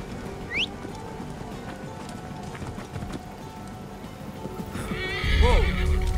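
Horses in Assassin's Creed Origins whinny, one sharp neigh early and another louder one near the end, while hooves clip-clop and shuffle steadily beneath a busy ambient game soundscape.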